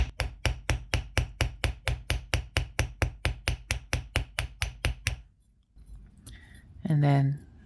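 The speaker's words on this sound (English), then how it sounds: "I'm going to hammer one side all the way down." Copper wire heart pendant struck with a hammer in a steady run of about twenty sharp metallic taps, close and loud, then a pause with faint handling noise and a short spoken voice at the end.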